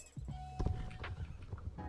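Horse hooves clop and a horse neighs in the Star Stable Online video game, with uneven hoof thuds and a whinny at moderate volume over a busy game soundscape.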